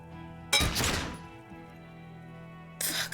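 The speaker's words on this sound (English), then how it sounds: "A small explosion expels the bullet from the chamber." A gunshot from the video game Disco Elysium cracks out sharply, followed by a decaying rumble over a low sustained musical drone, with a second burst near the end.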